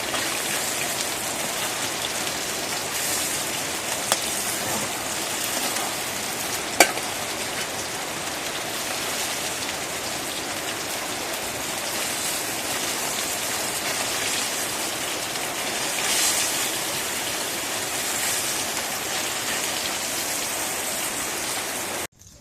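Constant rain falling on surfaces, a steady close hiss with a few faint drips and one sharp tap, no talking.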